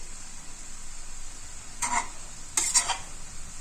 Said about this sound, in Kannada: ಘಾಟಿದೆ, ನಾನು ಲಿಡ್ ಕ್ಲೋಸ್ ಮಾಡ್ಕೊಂಡು ಫ್ರೈ ಮಾಡ್ಕೊತೀನಿ.